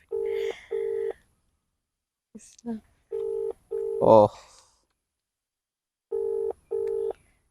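A phone call rings unanswered through a handset: pairs of electronic ringback tones repeat at regular intervals, close and clear, while a person briefly speaks and makes a short exclamation between rings.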